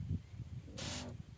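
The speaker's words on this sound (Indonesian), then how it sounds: "kita semprot" A sprayer mists curly chili plants in an eco farming garden, giving one short, quiet hiss of spray that stands out against low background noise.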